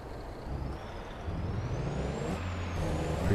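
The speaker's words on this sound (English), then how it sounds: "Oh, you can turn the Jake brake off." Air brake and engine whir of a grain-hauling truck in Farming Simulator 22, a steady mechanical drone with a rising and falling whine, building slightly louder toward the end.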